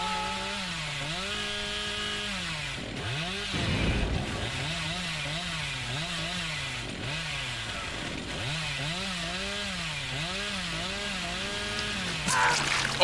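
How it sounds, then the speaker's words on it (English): A video game chainsaw revs steadily from across the map, a loud, continuous buzzing engine whose pitch rises and falls in repeated throttle swells, alone without talk. "I just got a chainsaw across the map, dude."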